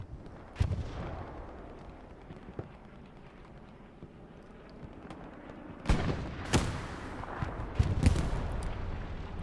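Rocket fire in the World War II shooter Hell Let Loose: a few sharp, heavy booms over a low rumbling battlefield, one early blast and then a cluster of loud detonations near the end.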